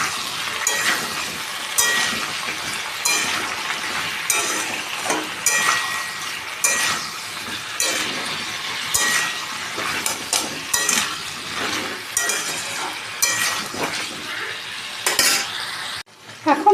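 Pieces of pointed gourd are tossed and fried in a pan, with a steady close sizzle broken by repeated scraping and clinking stirs, ending in a brief clatter.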